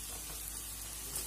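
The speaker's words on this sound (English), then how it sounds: "Quickly let's add our besan and give it a good stir to make it lump free" Besan (gram flour) fries in oil with hing, a faint, steady sizzle and soft stirring texture, quiet and close with no voices.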